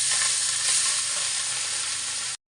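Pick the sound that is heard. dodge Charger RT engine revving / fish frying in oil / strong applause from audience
fish frying in oil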